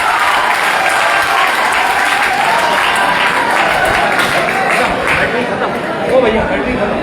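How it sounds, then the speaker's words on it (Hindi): An audience claps loudly and continuously for a woman called up at an anti-drug awareness event in India, a dense, sustained round of applause with some crowd chatter mixed in. "दीदी के लिए जोर से ताली बजाओ"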